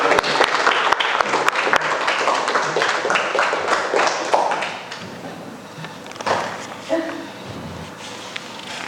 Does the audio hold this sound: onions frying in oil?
no